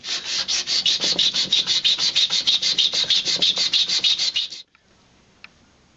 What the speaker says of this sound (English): I'm going to smooth it off a little bit with a bit of sandpaper